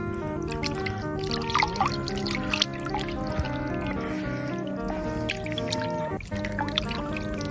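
Water pours and trickles steadily and close by, a continuous liquid splashing with faint dripping and no talk.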